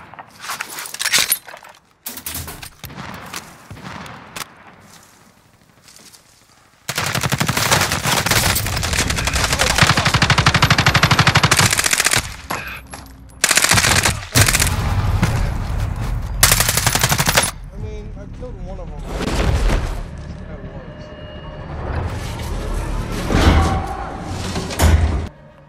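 Bursts of light machine gun fire crack in a video game firefight, loud and sustained for long stretches with brief pauses, mixed with other gunshots and impacts.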